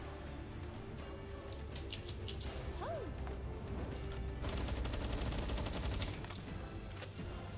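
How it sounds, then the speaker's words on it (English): Gunfire in the video game Palworld: a dense burst of rapid shots fired in a long run, with a reload and other game sounds and effects around it, heard at moderate level. "you can fire your gun and reload"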